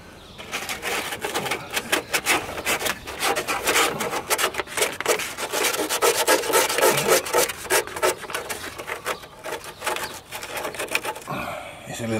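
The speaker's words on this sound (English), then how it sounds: "So I'm going to keep sanding" Sanding corroded brake lines underneath a Vauxhall Astra that failed its MOT, a rapid scratchy rubbing in quick bursts that continues steadily, close up, ending with a brief pause.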